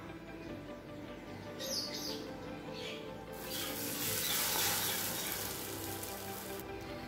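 Bread frying in melted butter in a pan for French toast, a soft steady sizzle close by that swells louder partway through, with faint chirping in the background and no talking.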